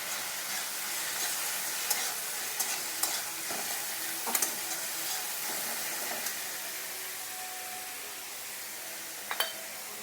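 Chopped tomato sizzles in hot oil with ginger paste for Dhaba-style stuffed masala aloo, a steady loud frying hiss broken by several sharp stirring clicks and scrapes of a spatula against the pan, no voices.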